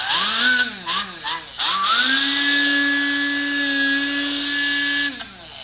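A pneumatic quarter-sheet orbital sander running at 15,000 orbits per minute revs up and down in a few short bursts, then settles into a loud, sustained high-pitched whine with a hissing air rush before cutting off.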